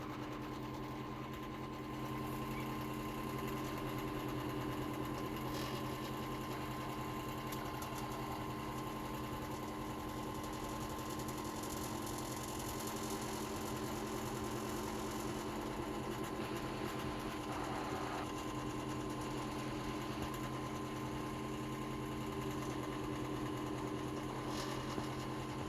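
A car engine idles in the Car Parking video game, a steady, droning hum with a high buzzing whine that holds constant for the whole stretch, with no voices over it.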